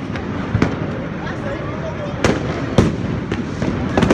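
Sharp firework bangs from high-speed bomb rockets burst at New Year in Prague, several separate loud cracks spaced irregularly over steady crowd noise and distant crackle, with people's voices in the background.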